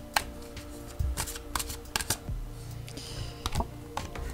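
Tarot cards being shuffled by hand, a steady run of papery riffles and soft slaps with several sharp card snaps, close up and alone with no talking.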